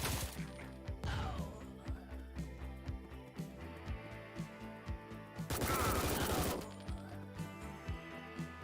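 Video game combat with gunfire shots and crashing impacts throughout, a big broadband blast partway through like a grenade explosion, and dense rapid bursts over a steady background.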